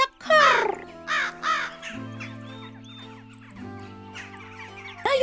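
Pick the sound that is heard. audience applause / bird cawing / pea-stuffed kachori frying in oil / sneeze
bird cawing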